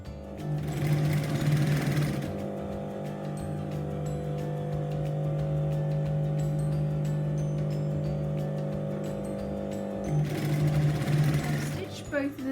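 A sewing machine runs steadily for about twelve seconds, stitching up the sides of Afghani trousers with lace trim. Its motor gives a close, continuous whirring hum, a little louder at the start and end, with some background noise under it.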